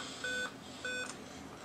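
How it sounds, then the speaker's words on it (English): A computer gives two short electronic beeps roughly half a second apart, clear tones over a quiet hissy room background. "My computer's making these beeping noises."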